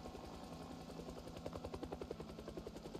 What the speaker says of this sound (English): that helicopter does not sound like it's going away